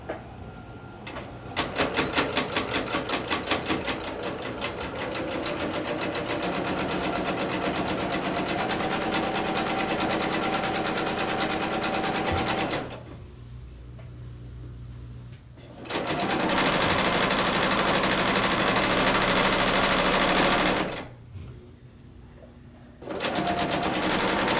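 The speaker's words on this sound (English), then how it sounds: "I'm going to set my needle position over to the far left so that I sew along the edge of the binding." A home sewing machine runs steady stitching along the edge of a garment binding, with the needle set to the far left. It sounds close and continuous, with two short pauses between runs and no talking.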